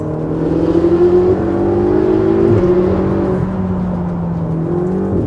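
A deep Ferrari 488 GTB turbocharged V8 engine hums and burbles steadily at idle, with a brief rev and pitch dip midway, loud and close.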